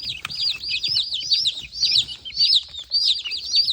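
Young Cornish chicks and ducklings chirp in rapid, high-pitched bursts, a busy overlapping peeping that repeats steadily at close range with no talking.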